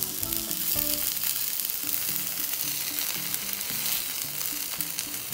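Pomfret coated in masala fries on a tawa, giving off a continuous dense sizzle and crackle at close range, with faint stirring clicks and no voices.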